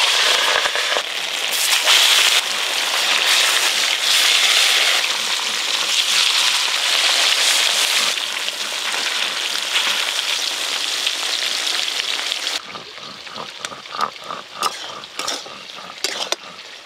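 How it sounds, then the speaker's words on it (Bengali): Katla fish frying in hot oil in a pan over a wood-fired clay stove, a steady loud sizzle and crackle that continues for about twelve seconds, then gives way to quieter scraping and clinking. "এবার মাছগুলো ভেজে নেব।"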